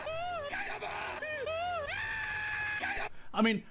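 An anime villain lets out a run of shrill, high-pitched screams and wails, several drawn-out cries broken by short pauses, ending in a strained groan.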